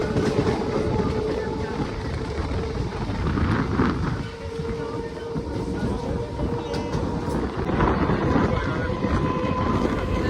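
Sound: riding on a moving train

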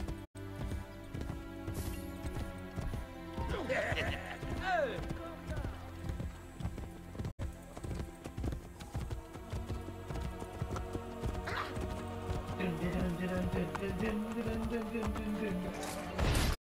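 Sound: horse neighing and hooves clopping in Assassin's Creed Brotherhood video game

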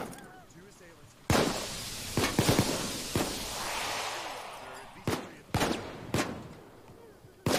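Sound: machine gun fire in the video game Payday 2

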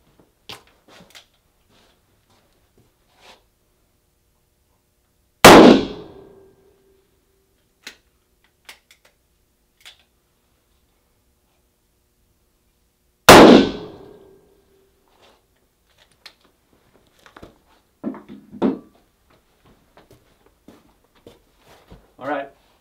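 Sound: Ruger GP100 .357 Magnum shot hitting a bulletproof suit

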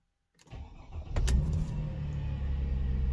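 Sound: Mercedes SLK 350 R171 engine idling after start

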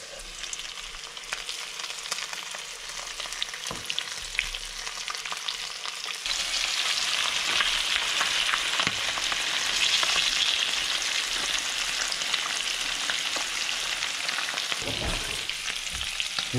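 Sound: crucian carp frying in hot sunflower oil in a pan

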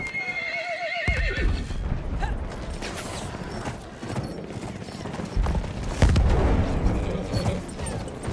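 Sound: horses neighing and hooves in Battlefield 1 video game

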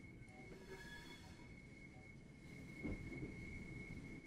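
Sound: train running noise in video game

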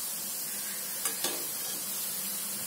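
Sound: medu vada deep-frying in oil until golden brown and crispy

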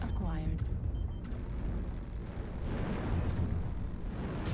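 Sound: airstrike explosions in video game MechWarrior Online

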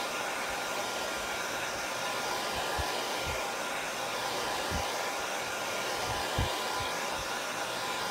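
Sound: hair dryer drying a craft birdhouse project

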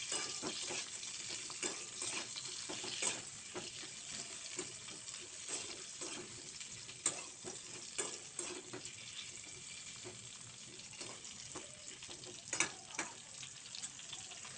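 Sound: stirring bitter gourd frying in a pan

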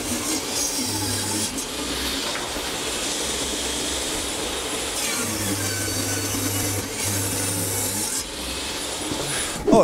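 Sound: table saw cutting wood with bagless dust extractor attached

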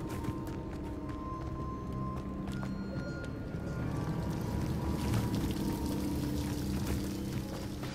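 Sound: waterfall in Hogwarts Legacy video game

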